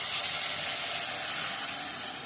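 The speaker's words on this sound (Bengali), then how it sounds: "এটা গরম জলটা দিয়ে দেবো।" Hot water poured into a pan of fish, giving a steady, loud hiss of steam and sizzle that holds evenly throughout without pause.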